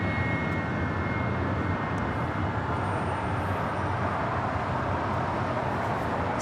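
Steady, continuous jet roar from a Delta Air Lines Boeing 757-200, delivered in 1990, on Flight 631 to Mexico City at LAX. It holds even and fairly distant throughout, with no voices.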